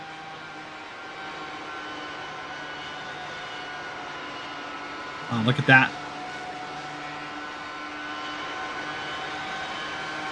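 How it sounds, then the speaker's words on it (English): Simulated race car engine at full throttle in iRacing during a Texas race, a steady droning whine with faint harmonics running throughout, under brief talk with a short louder burst midway. "Can't really tell if that's lifting in the corner or if that's just engine bogging down due to the G-forces."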